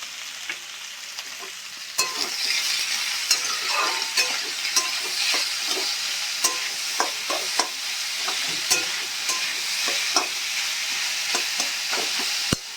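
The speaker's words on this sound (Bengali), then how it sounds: "পেঁয়াজ থেকে জল ছেড়ে দেবে এবং পেঁয়াজটা আমার তাড়াতাড়ি ফ্রাই হয়ে যাবে" Onions salted in a pan fry with a steady close sizzle, punctuated throughout by sharp scrapes and taps of a spatula stirring them, continuous and even with no voices.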